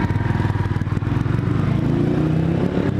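A motorcycle rides along a street with a steady, buzzing engine drone that stays close and constant throughout.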